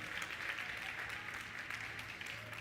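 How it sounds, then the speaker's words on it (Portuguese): A church congregation applauding after a sermon, a steady dense patter of clapping throughout, moderately distant and somewhat faint. "Você pode dar um aplauso ao Senhor por essa palavra?"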